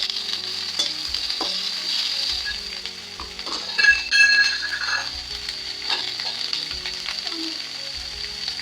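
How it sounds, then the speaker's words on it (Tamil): A brinjal stir-fry sizzles loudly in a pan while a spatula stirs it, giving a steady frying crackle broken by scraping strokes and occasional light clinks, close and with no talk. "இதே நல்லா கிளறி ஆயிடுங்க"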